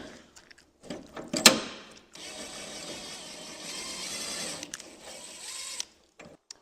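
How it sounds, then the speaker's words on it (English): A ratchet works on a suspension part of a Mercury Cougar during disassembly, giving a sharp metallic clack, then a steady stretch of fine mechanical clicking lasting a few seconds, with scattered small knocks before and after. "I'm going to slowly start ratcheting this up, tighten it"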